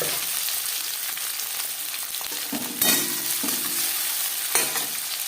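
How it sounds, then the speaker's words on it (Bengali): Chopped onion frying in refined oil for chicken chana masala makes a constant close sizzle, with a couple of sharp stirring knocks and scrapes of a spoon against the pan. "চার চামচ রিফাইন এবার দিয়ে দেবো পেঁয়াজ কুচি"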